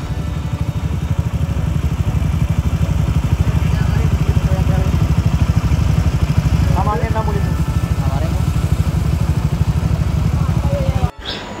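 Motorcycles of a bike squad rumble steadily at close range, a continuous low engine drone running the whole time with voices over it.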